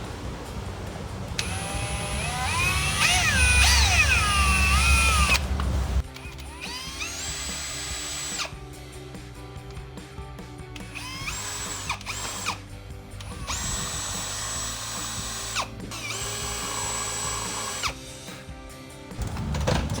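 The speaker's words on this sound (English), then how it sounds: "I'm going to go ahead and drill this 1/4 inch hole" A power drill whines at high speed drilling a 1/4 inch hole in a 2021-2023 Ford F-150, then runs in several bursts with short pauses between, loud and close, with no talking.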